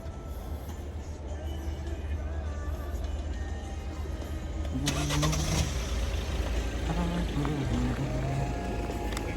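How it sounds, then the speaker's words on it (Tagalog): Heavy road traffic with many cars and trucks fills the scene with a dense, continuous engine rumble and passing vehicles. It swells louder in the second half, when horn-like tones sound, and a voice speaks faintly underneath. "Sa dami ng sasakyan."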